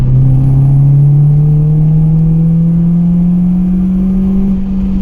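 A car engine drones steadily and loud from inside during a drive, its pitch climbing slowly as it revs up over several seconds, with no talking.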